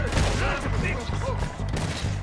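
Gunshots from a Red Dead Redemption 2 shootout, played on PC, crack out in a dense, loud volley of overlapping reports layered over game music and ambience.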